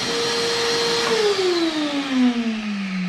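An overfilled shop vacuum roars steadily and loudly, its motor pitch sliding slowly downward as the suction strains.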